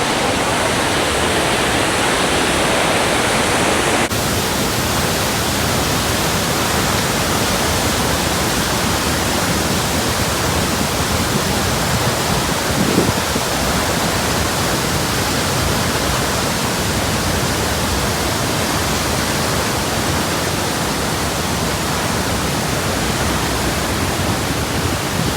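The Dam Bri waterfall near Bao Loc, Vietnam, rushes in a loud, unbroken roar of falling water, a dense hiss filling the scene steadily from start to finish with no voices.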